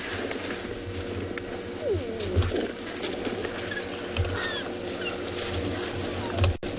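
African wild dogs on an evening safari give growls and short bark-like calls, along with squeaky twittering, mixed with outdoor background noise and a few low thumps from nearby.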